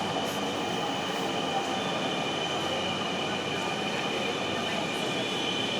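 Inside a moving metro train car, a steady loud rumble and hum of wheels on rails carries on with no break.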